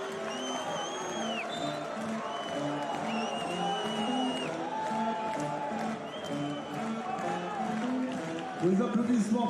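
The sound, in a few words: basketball crowd applauding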